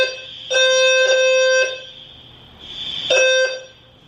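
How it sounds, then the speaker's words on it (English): A building fire alarm in an apartment complex going off during testing, blaring in harsh, piercing electronic pulses, a run of three close together then a pause and two more, loud and alone. "That's been going off every like 2 to 5 minutes since 9 o'clock this morning."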